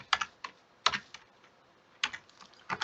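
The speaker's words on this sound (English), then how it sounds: "And I'm going to type in" Keys on a computer keyboard are tapped in short irregular clusters of close, crisp clicks separated by brief pauses, with no talking.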